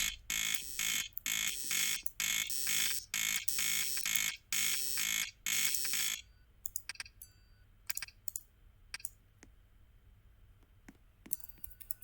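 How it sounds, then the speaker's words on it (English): An electronic fire alarm in a Roblox elevator game blares in rapid repeated pulses for several seconds, then stops, leaving scattered clicks and faint taps. "Fire alarm."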